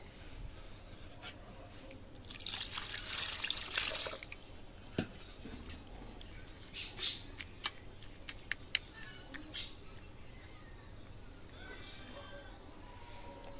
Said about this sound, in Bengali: এই যে আমি এখন পানি দিয়ে নেব।